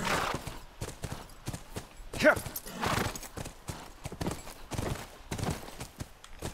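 Horse hooves clip-clopping in The Last of Us, a steady walking rhythm of soft, fairly quiet hoof strikes with a brief whinny, under quiet background sounds.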